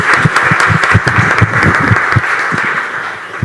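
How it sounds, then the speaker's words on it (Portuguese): A church congregation applauds during a worship service, loud close clapping with distinct individual claps in a loose rhythm, tapering slightly toward the end. "Vamos aplaudir ao Senhor pela vida deles?"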